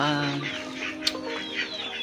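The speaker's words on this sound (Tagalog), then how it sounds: "So ari mga aton nga kahayupan, mga manok." Backyard chickens cluck and squawk close by, several overlapping calls in quick succession.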